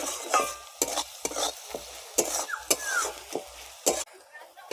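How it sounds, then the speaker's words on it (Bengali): Onions frying in a pan while being stirred, with rhythmic scraping strokes of a spatula roughly every half second over a soft continuous sizzle, close up, with faint voices in the background. "যতক্ষণ অবধি নাড়ব যতক্ষণ না পেঁয়াজটা একটু ভাজা ভাজা বাদামি কালার চলে আসে পেঁয়াজের মধ্যে।"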